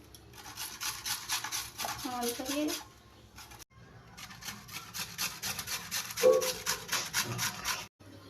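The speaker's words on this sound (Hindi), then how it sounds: "आलू घिसेंगे, प्याज घिसेंगे।" Potatoes and onions are grated by hand, a rapid rhythmic rasping of strokes close up that runs in two long bursts, with brief talking mixed in.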